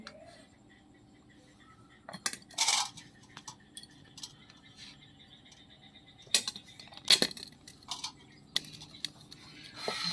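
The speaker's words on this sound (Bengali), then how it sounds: "এই চামচের সাহায্যে আমি পটলের এই ভেতরের অংশগুলো সব বের করে নেব" A metal spoon scrapes out the inside of a fresh pointed gourd in a few short, scratchy bursts separated by quiet pauses, with faint clinks of utensil against the vegetable.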